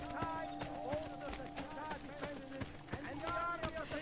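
Rhythmic clip-clop of horse hooves at a quick gait in Assassin's Creed: Brotherhood, with steady hoofbeats over background game music and ambient tones.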